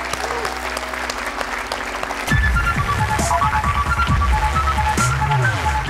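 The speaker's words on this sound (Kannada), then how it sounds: "ಜೋರ್ ಚಪ್ಪಾಳೆ ಡಾಕ್ಟರ್ಗೆ." Loud audience applause greets a doctor called onto a TV show stage, bursting in after about two seconds of music and continuing as a dense, sustained clapping crowd while music plays underneath.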